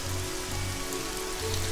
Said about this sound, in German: ich hoffe, der Regen war nicht zu laut